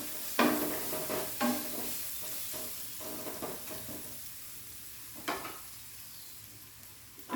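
Coriander roasting in a pan over a low flame, giving a soft, steady sizzle with a few scraping stirs of a spoon near the start and again around the middle. No one speaks.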